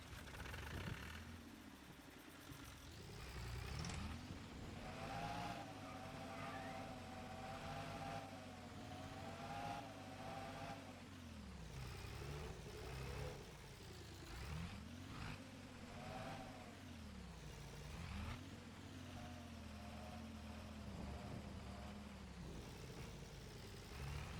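Tractor engine in Farming Simulator 25, a steady droning motor with repeated revs rising and falling in pitch, running continuously throughout with no talk over it.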